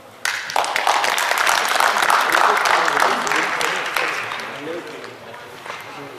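Audience applause for people being called up at a school play, a dense burst of clapping that swells quickly, holds, then gradually fades, with no talk over it.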